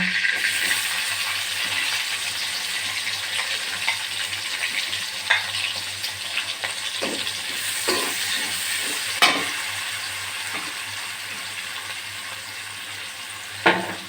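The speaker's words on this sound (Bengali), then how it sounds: "ভেজে লাল করে নেব" Onions sizzle steadily in a pan of hot oil while chicken biryani is cooked, with a continuous frying hiss broken by occasional clinks and scrapes of stirring.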